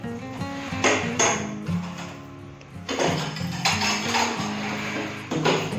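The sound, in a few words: dishes and pots being put away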